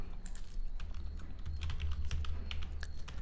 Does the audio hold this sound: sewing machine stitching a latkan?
no